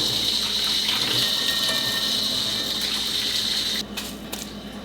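Water pours in a steady, close rushing stream, then cuts off abruptly near the end, leaving quieter background noise.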